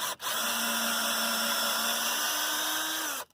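A 19.2 volt cordless screwdriver runs at low speed in one continuous steady whir for about three seconds, with a slight pitch rise near the end before it stops abruptly, close and loud.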